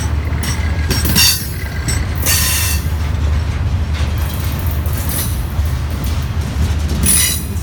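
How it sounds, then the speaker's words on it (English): A Union Pacific welded rail train rumbles steadily past up close, with low continuous roar, wheel squeals and clattering bursts of noise over the rails. "It is a rail train, welded rail train."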